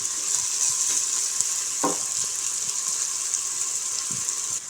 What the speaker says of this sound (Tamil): இப்போது வெங்காயம் நல்லா வதங்கினதுக்கப்புறம் தக்காளி இது வந்து நல்லா வதங்கட்டும்